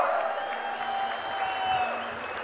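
A crowd at a political speech in Andhra Pradesh claps continuously for Chief Minister Chandrababu Naidu, producing a steady, moderately distant wash of applause with a faint tonal hum beneath it.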